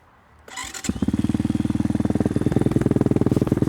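A BSE J10 motorcycle engine starts after a short crank and settles into a loud, steady, rapidly pulsing idle close by.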